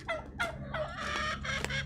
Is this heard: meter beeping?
no